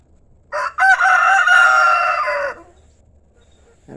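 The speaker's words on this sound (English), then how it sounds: "That rooster's so loud." A rooster crows loudly close by in a home garden, one long drawn-out cock-a-doodle-doo standing alone against faint outdoor quiet.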